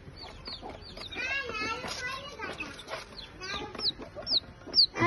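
A four-legged baby chick gives several short, high cheeping clucks toward the end, heard close up while people talk over it.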